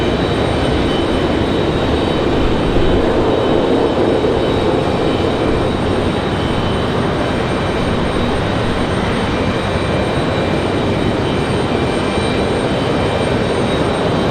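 A Slate Aviation jet passing at Raleigh-Durham airport, a loud, steady broadband roar that holds without letup for the whole stretch.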